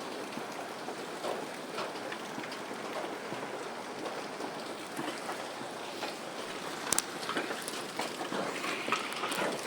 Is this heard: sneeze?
no